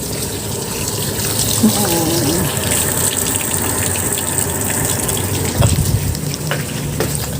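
Tap water gushes steadily from a faucet as lettuce is washed at a home sink, a loud continuous splash with small clatters and faint background voices.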